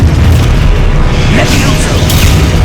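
An Expulso spell explodes in Hogwarts Legacy on Xbox Series S, a loud, sustained low boom rumbling throughout the clip with game sound layered over it and no clear speech.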